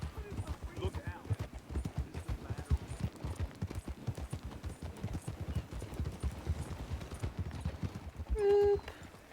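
Horse hooves in the game Red Dead Redemption 2 clop in a quick, steady gallop close by, continuing throughout, with a brief tonal chime near the end and talking over it.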